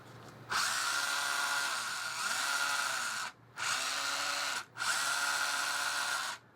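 A high-pitched whine from the gearbox of an Axial SCX10 III RC crawler runs in three bursts with brief pauses between them, steady and mechanical, recorded close with no talking.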